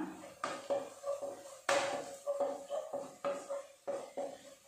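A spoon stirring and scraping spices for egg curry in a pan over low heat, with a series of irregular knocks and scrapes, close and moderately quiet.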